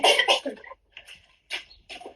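A few sharp coughs close to the mic: a quick double burst, then two more single coughs after short pauses, with no talking.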